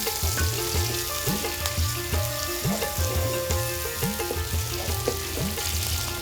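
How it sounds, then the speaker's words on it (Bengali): Onions and green chillies sizzling in the oil left from frying rui fish, a steady crackling fry with rhythmic scraping stirs repeating every half second or so, close and without talk. "মাছ ভাজা শেষ করে মাছের তেলেই দেয়া হলো পেঁয়াজ আর কাঁচামরিচ"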